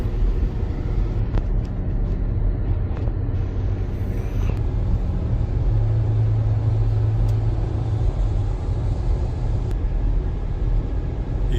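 Heavy trucks drive along a desert highway in the Route 66 area between Albuquerque and Phoenix, a steady loud engine and tire rumble with no voices.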